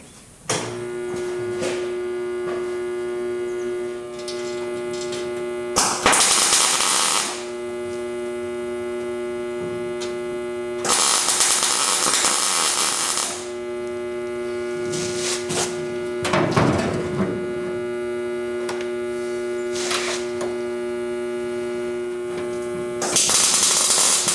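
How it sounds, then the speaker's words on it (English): A welder runs during the replacement of floor pans on a restoration project, giving a steady electrical hum with a strong tonal buzz. Loud crackling bursts of a few seconds each break in repeatedly, and no one talks. "Let's get our welder going here."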